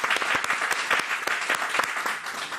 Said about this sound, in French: Il faut qu'on applaudisse pour les récompenses